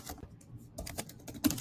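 Rapid clicking of computer keyboard keys, a run of light irregular taps at close range with a slightly louder cluster near the end, no voices.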